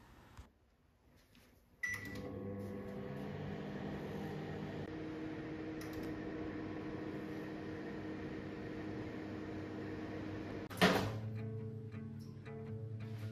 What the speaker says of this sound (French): je fais chauffer également mon matcha dans un micro-ondes